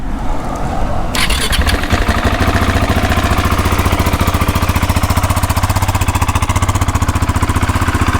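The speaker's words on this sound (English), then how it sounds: "Let's do the first startup and then we will let it idle to temperature." A 2020 Husqvarna 701 SM motorcycle engine with stock exhaust cranks briefly on its first startup, catches, and settles into a loud, rapid, steady idle that chugs evenly for several seconds.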